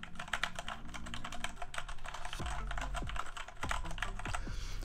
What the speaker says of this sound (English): I'm gonna type just a little bit just so you can hear what it sounds like.